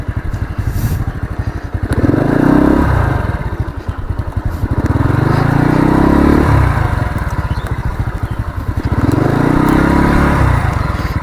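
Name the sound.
motorcycle engine while turning the bike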